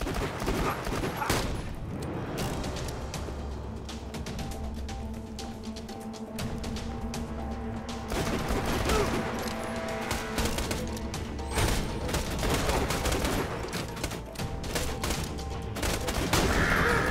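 Borderlands 2 video game combat with a grenade explosion and sustained gunfire, loud crackling volleys and sharp shots repeating throughout, punctuated by heavier booms.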